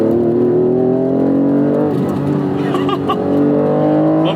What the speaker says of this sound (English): Love that Titec exhaust with the headers too.